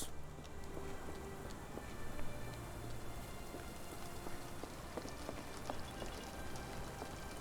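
Steady rain falls in the Sherlock Holmes: The Awakened video game, a quiet, even patter of drops hissing continuously throughout with no speech.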